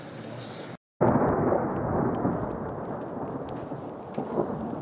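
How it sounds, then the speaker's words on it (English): Thunder rumbles loud and sustained during a thunderstorm on a hike, a broad rolling roar that briefly cuts out near the start and then continues with steady rain. "Thunder."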